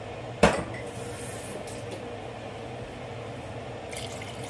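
Water goes into a pot of chicken curry broth: one sharp metallic clank at the start, then a steady, soft pour that runs on at an even level.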